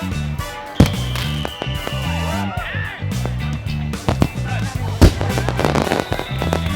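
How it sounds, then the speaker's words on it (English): Fireworks at neighboring hotels in Fiji bang and crackle repeatedly at varying distances, with sharp pops and whistling streaks over a steady backdrop of music and crowd noise. "I was also glad that the neighboring hotels had some fireworks going on."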